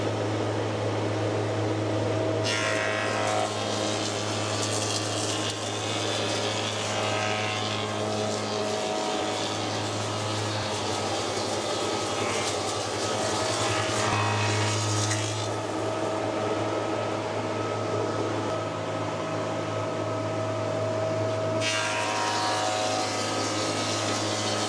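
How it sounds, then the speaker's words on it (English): A woodworking machine cuts timber for cornice moulding, its motor a constant low drone with two or three louder rasping passes as the wood is fed through, close and steady with no talk. "I'm running it vertically, so this bit of the timber is against the upright fence on the machine."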